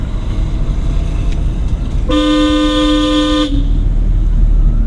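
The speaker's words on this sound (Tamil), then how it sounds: "அவ்வளோ ஹார்ன் அவருக்கு தேவைப்படாதுப்பா" A car horn blares once in a sustained honk of about a second and a half, loud and close, over steady road and engine noise.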